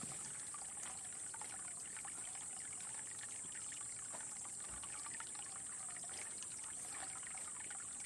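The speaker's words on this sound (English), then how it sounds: "the sound of running water in a beautiful environment, ending with the high-pitched sound of the cicadas" Gentle trickling of running water with a constant high-pitched drone of cicadas layered over it, steady and moderately faint, in Japan.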